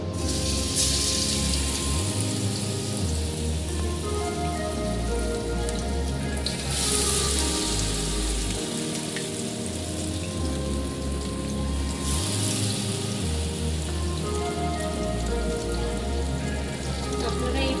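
Lotte fish dipped in gram flour batter fries in hot oil, making a steady broadband hiss that swells in several waves over rhythmic background music, with no talk.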